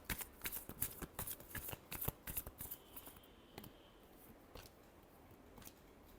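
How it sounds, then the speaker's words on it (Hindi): Tarot cards being shuffled close up, a quick run of crisp riffling and flicking bursts that thins into scattered soft taps, quiet overall. "Last shuffle."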